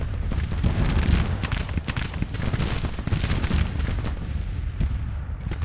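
Artillery fire in a Grand Tactician: The Civil War battle, a continuous rumble of overlapping booms and musketry-like crackle, loud and dense throughout with no clear gaps.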